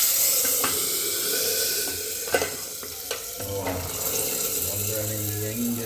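Spices for a tempering crackle in hot oil after curry leaves and garlic, a continuous sizzle broken by sharp spoon taps and stirring scrapes, fairly close and with no one talking.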